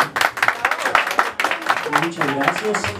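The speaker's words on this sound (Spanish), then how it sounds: "¿y será que el mariachi se merece un aplauso?" Audience applauding a mariachi band at a quinceañera, steady close clapping with a voice talking over it and some music tones near the end.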